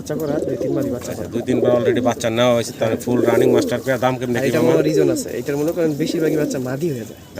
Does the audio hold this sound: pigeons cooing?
yes